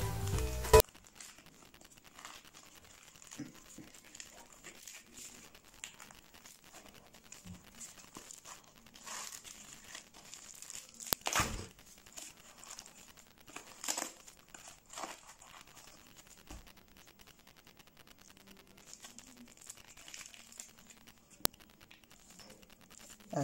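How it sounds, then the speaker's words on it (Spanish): Fresh corn cobs being husked by hand for corn tamales: crisp tearing and crinkling rips of the leaves, irregular and close, continuing in bursts for a long stretch with no talking. "Voy a pelar los elotes."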